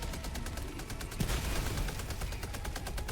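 A sentry turret in the video game Helldivers 2 fires a long, unbroken burst of rapid automatic shots, dense and loud over a rumbling battle background.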